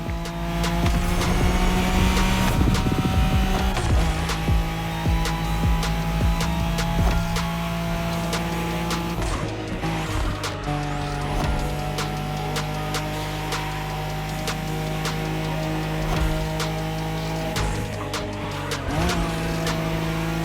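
A Nissan Skyline races in The Crew Motorfest, its engine roaring steadily up close with sustained tire squeal and skidding, gear shifts breaking the drone at intervals over a continuous loud stretch.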